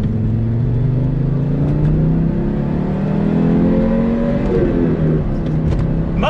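The original Audi Quattro drives along as its engine note climbs steadily under acceleration, then eases and builds again, a loud close-up in-car drone with no one speaking.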